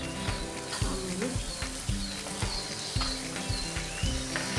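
Beetroot tipped into a pan of sizzling onion and cumin tempering for a home-style saagu, giving a steady close frying crackle with a few soft stirring knocks and no voices.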